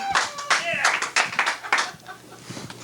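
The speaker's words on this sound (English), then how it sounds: "Big round of applause" Brief, scattered hand clapping from a studio audience on a 1986 local TV morning show, a few uneven bursts that thin out toward the end, with voices mixed in.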